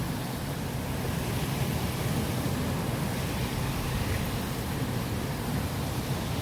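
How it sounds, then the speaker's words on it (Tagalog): A noisy river rushing past in Taiwan, a continuous broadband roar of flowing water that stays steady and close throughout with no voices. "Ayan, ang ilog dito. Guys, yung maingay."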